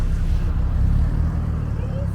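A car with a sweet-sounding engine rolling past, a steady low rumble that holds fairly loud for two seconds, with people talking in the background.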